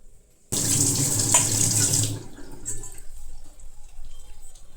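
Tap water gushes loudly into a sink while brass utensils are washed, a steady close rush lasting under two seconds before cutting to quieter splashing and faint clinks.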